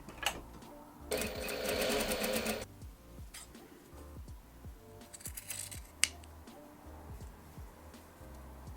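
A home sewing machine stitches bloomer shorts in two brief bursts, one longer run of about a second and a half near the start and a shorter one later, with soft handling clicks and knocks between them.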